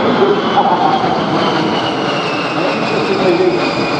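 A-10 jet aircraft flying at the Oshkosh EAA AirVenture 2021 airshow, a steady, fairly loud jet roar with a slowly shifting whine held throughout.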